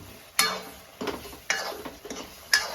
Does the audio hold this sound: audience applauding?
no